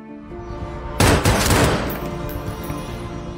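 Gunfire from a film action scene, a sudden loud burst of rapid shots that tails off into a sustained rumbling echo over music.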